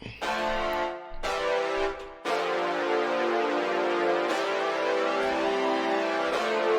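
A rich synthesizer chord sounds, cutting off and returning in several held presses, bright and sustained with no talking.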